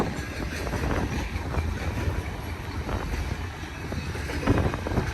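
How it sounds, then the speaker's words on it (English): A westbound double-stack port freight train rolls past near Milepost 75 in Cajon Pass, a steady low rumble and rattle of wagons lasting throughout, mixed with gusty wind buffeting the microphone. "Got a port stack train here"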